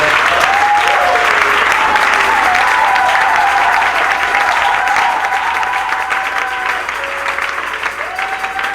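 A church congregation applauds at an evening service led by a pastor, loud sustained clapping filling the room with a voice calling out over it, slowly easing toward the end.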